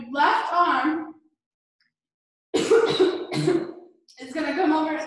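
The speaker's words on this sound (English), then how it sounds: "I have a coughing attack." A woman coughs in short, harsh bursts during a hip hop dance class, with speech before and after and a brief silent pause.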